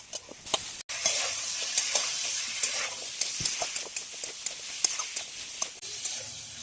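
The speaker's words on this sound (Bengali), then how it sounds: "লাউ সজনা ডাঁটা মশলা দিয়ে খুব ভালোভাবে কষানো হয়ে গেছে।" Bottle gourd and drumsticks fry with spices in a hot pan, a loud continuous hissing sizzle punctuated by repeated sharp scraping stirs at a fairly regular pace.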